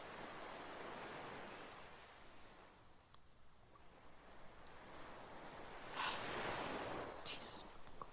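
Ocean waves wash steadily onto a beach in a continuous broadband roar, swelling into a louder surge near the end.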